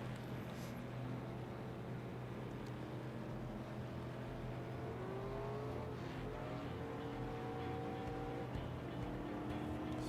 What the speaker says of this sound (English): You can hear those engines roaring